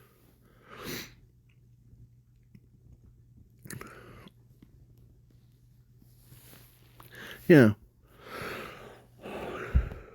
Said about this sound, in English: I had to blow my nose.